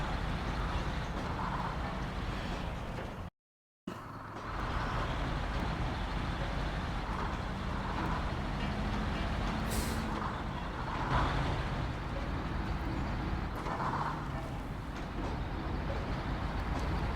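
A truck engine in the video game SnowRunner drones steadily as a continuous low, rough rumble with road-like noise, quiet and unbroken except for a brief dropout near the start.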